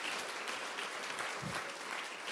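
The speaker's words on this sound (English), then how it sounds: "give them a big round of applause" An audience at a tech-industry event applauds a consulate team, producing soft, even clapping that sounds fairly distant and quiet throughout.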